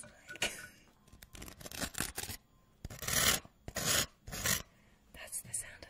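A knife scrapes Vegemite across toast with dry, raspy strokes in bursts of varying length, close and quiet, with no talk over it.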